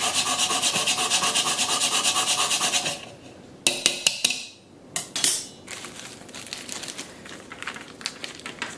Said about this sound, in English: Now you just grate the fresh nutmeg.